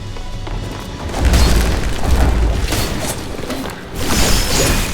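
A boss's horn torpedoes explode in the video game Beast of Reincarnation, producing loud, rolling booms and crashes with whooshing debris that swell, dip briefly, then surge again over five seconds, with no talking.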